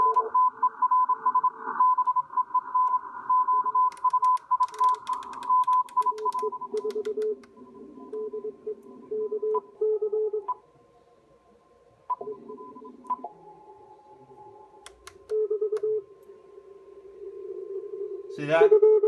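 Morse code CW signals on an Icom IC-7300 HF radio transceiver, with steady tones keyed in short and long bursts, one station fading out as another continues, clear and close with brief gaps.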